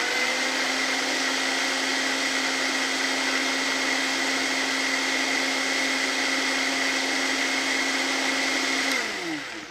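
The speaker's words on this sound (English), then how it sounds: "you really want to use a blender to make this because otherwise the herbs are never really going to mash down completely" A blender purées herbs and yogurt in a steady, loud whirring drone that runs unbroken for nearly ten seconds, then winds down at the very end, with no talk over it.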